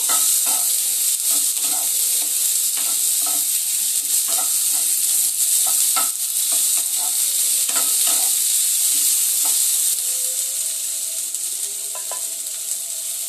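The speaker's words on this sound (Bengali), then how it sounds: "আদা লঙ্কা সবই একবারে দিয়ে দেব দিয়ে আবারও একটু ভালো করে সব মশলাগুলোকে একটু ভেজে নেব" Spices with ginger and green chilli fry for a chicken dish with a steady, loud sizzle while a spoon scrapes and stirs the pan in repeated knocks, with no talking.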